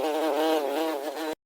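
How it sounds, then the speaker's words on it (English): Bees buzz in a loud, close, continuous drone that wavers slightly in pitch before cutting off abruptly. "Have you ever wondered why bees make that buzzing sound?"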